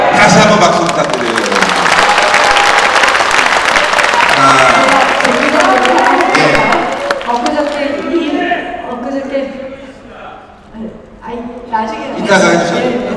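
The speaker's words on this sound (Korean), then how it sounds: "다시 한번 박수 부탁드려요" Audience at a Liberty Korea Party members' education event in Dongjak, Seoul, applauding Na Kyung-won; loud clapping and cheering for several seconds that thins and fades, with voices talking over the tail.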